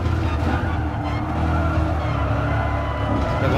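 A Chevrolet Corvette races in Gran Turismo Sport, its engine a constant loud roar with tire noise and skidding layered on top, dense and unbroken throughout.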